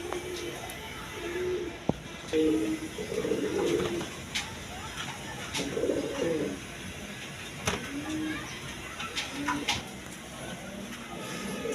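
A pair of Jagbin pigeons in a loft coo repeatedly in soft, rolling phrases, mixed with occasional sharp clicks and rustles over a low background hiss.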